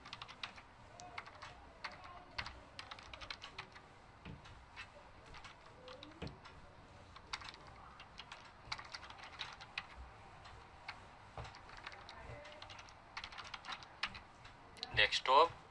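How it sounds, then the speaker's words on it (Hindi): A computer keyboard clicks as someone types a cd command into a Kali Linux terminal, with faint, irregular keystrokes tapping in quick clusters throughout and a slightly louder burst near the end. "मैं सिर्फ दो दो वर्ड लिख रहा हूँ, लेटर लिख रहा हूँ और सीधा टैप कर रहा हूँ"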